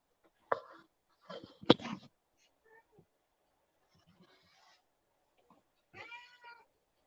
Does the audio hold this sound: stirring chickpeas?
no